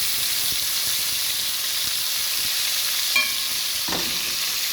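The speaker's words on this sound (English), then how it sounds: "I like to sear off my beef." Beef sears in a pot with a steady, close sizzling hiss that runs throughout, broken by a couple of faint clinks as the pieces are turned.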